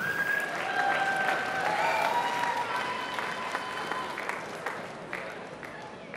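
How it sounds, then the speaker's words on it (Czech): Audience applause and cheering at the Miss Czech Republic 2022 beauty pageant final as the Miss International Czech Republic winner is crowned, a steady, dense wash of clapping with bright tones and music over it, fading slightly. "Velký potlesk pro ní."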